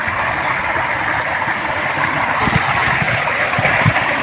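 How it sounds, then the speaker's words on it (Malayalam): Steady broadband rush of a monsoon waterfall and flowing stream at Vellarimedu, continuous and fairly loud throughout, with a few low thumps near the end and no talking. "ഇവിടെ വെള്ളച്ചാട്ടമുണ്ട്"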